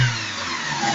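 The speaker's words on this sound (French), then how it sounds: "Lorsque je vais donner des coups d'accélérateur" A petrol car engine revs as the accelerator is blipped during a fuel pressure check, a steady, fairly loud mechanical roar with no pauses across the short stretch.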